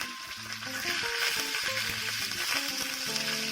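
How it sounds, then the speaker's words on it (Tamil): Mustard seeds, urad dal, broken dried red chillies and curry leaves sizzle and crackle steadily in hot coconut oil for a South Indian sambar tempering, a loud close frying hiss with scattered pops throughout. "எண்ணெய் சூடானதும் கடுகு உளுந்தம்பருப்பு போட்டு ரெண்டு வரமிளகாய் கிள்ளி போட்டு கருவேப்பிலை போட்டு தாளிச்சிக்கிறோம்"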